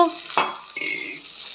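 Chopped tomato dropped into onions frying in a pan, a sharp clatter of utensil against pan followed by a second scrape and a faint ongoing sizzle, close up and brief with no talking.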